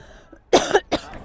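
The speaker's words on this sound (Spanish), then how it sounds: "Uy, me está dando como tos a mí." A person coughs twice near the microphone, two short, loud, throaty bursts in quick succession against a quiet background.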